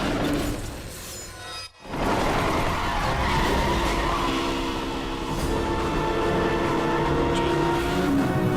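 A car skids hard during a video-game police chase, with a long sustained tire squeal over engine roar. A brief dropout breaks it before the skid resumes loud and close, continuing steadily to the end.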